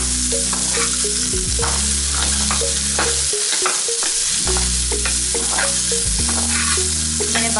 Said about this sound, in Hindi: अब इसमें मैं ऐड कर रही हूँ कैरेट्स